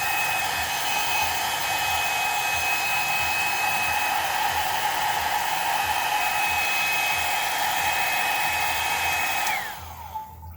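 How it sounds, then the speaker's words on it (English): Hair dryer blowing to dry fresh red paint on the midsole of an Air Jordan 16 low sneaker, a loud, steady, close whine running for about ten seconds before switching off near the end. "I'm gonna go ahead and dry it up"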